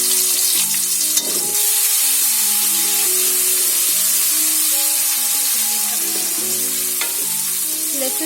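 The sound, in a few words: frying garlic ginger paste for lamb karahi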